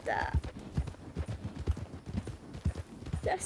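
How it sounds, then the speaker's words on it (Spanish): Horse hooves clip-clop at a steady walking rhythm in the video game Red Dead Redemption II, close and fairly loud, with people talking over the footfalls. "se me ha vuelto loco otra vez el caballo"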